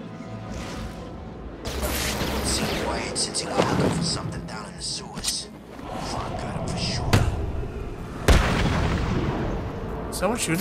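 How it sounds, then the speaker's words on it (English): Gunfire in Batman: Arkham City: a dense run of sharp, booming shots and crashes over about ten seconds, some single cracks standing out, mixed with voices and other in-game action. "I feel like someone was shooting me."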